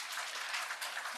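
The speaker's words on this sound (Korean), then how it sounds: "박수로 맞이해 주시기 바랍니다." Soft applause from a medical symposium audience greeting a vascular surgeon before a lecture, a thin, even patter of hands in a hall, fairly quiet and continuous.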